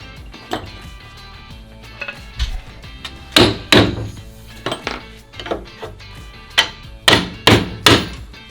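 Sharp clanks and knocks of a press being set up and clamped down on a Kydex knife sheath, about a dozen irregular metallic hits, close and loud, with quiet gaps between.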